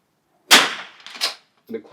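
A single sharp rifle shot cracks out from a bolt-action rifle at an NRL22 match, loud and close, its echo decaying over a second before brief faint sounds follow.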